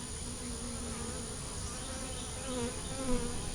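Honeybees buzzing around an open hive frame with pollen and queen cells, a soft, steady drone of many insects with a few louder passes near the end, no voices.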